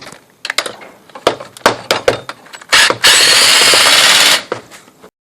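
A ratchet works the two half-inch alternator bolts on a 2005-2009 Ford Mustang V6 or V8: a run of short sharp clicks and rattles, then a sustained whirring burst of about a second and a half, close up.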